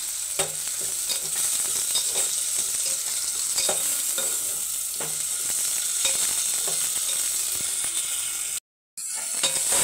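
Ginger garlic paste sizzles steadily in a hot pan for prawn pulao, with scattered clinks and scrapes of a stirring spoon and a brief dropout near the end; no voices.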